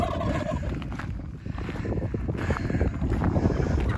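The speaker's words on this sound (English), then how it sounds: "I've never seen how they're all like gobbling in sync here." Several wild turkeys gobble together in rapid, overlapping bursts outdoors at Coyote Hills Regional Park, with wind buffeting the microphone.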